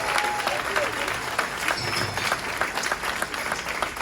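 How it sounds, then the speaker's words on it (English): A packed comedy-show crowd applauds the wait staff with steady, dense clapping that fills the room, loud and close, with some cheering mixed in. "let's clap it up for your wait staff one time as well"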